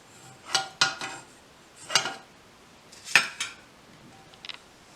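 Hot homemade hair oil is poured through a metal wire sieve into a dish, giving a few sharp metallic clinks and scrapes spaced irregularly, close and fairly quiet.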